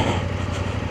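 A vehicle rolls downhill on a rough bush track in a national park with the clutch in, its engine giving a close, steady, low rumbling drone.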